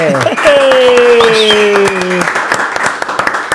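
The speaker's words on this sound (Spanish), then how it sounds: "Un aplauso para el Meque." Studio audience applause greets a guest on a Spanish-language talk show, a dense crowd clapping that starts together with a sustained musical tone or fanfare playing over it and then thins out toward the end.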